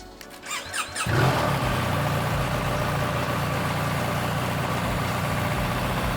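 A BMW R 1300 GS motorcycle powers up: a brief whirring, chirping start-up sequence, then the engine settles into a steady, close, loud idle drone that continues to the end, with no talk.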